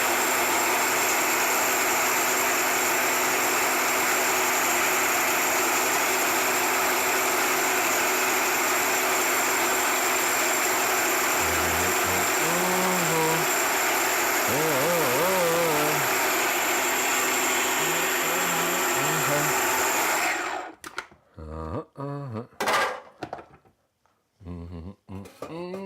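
A blender purees carrots into baby food, running as a steady, loud motor whir with a high tone for about twenty seconds, then stopping abruptly, followed by a few short clattering knocks.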